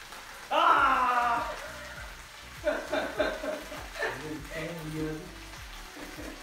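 Coriander and mint leaves sauté over a medium flame for mint chutney, giving a lively, steady sizzle broken by stirring scrapes and clinks that come and go close by.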